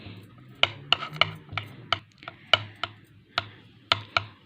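Cornflour skin paste stirred in a bowl, a spoon clicking sharply against the sides in an uneven rhythm of about a dozen taps over a soft scraping, close and moderately loud with no talk.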